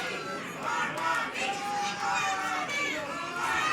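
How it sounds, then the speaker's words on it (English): Wrestling crowd at a Chaotic Wrestling show in Lawrence cheers and shouts steadily throughout, a dense roar of many voices filling the arena at moderate distance. "Crowd here in Lawrence trying to get behind our skinny weight champion."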